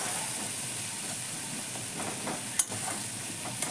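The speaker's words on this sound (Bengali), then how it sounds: "মশলাটা 1-2 মিনিট একটু ভালো করে কষে নেব" Spice paste with turmeric frying in a pan for a water spinach and lentil dish. It gives a steady, hissing sizzle, with a brief sharp clink partway through and faint scraping underneath.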